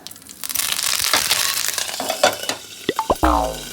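Cumin seeds frying in hot oil for a village-style drumstick leaf chutney, a dense crackling sizzle with scraping stirs, ending in a few sharper clatters of a utensil against the pan.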